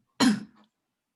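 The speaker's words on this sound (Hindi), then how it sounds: "आप लोग के कान में मैं खांस रही हूँ" A woman coughs once, a quick loud burst followed by a rough throat-clearing, and a second short cough cuts in about a second later.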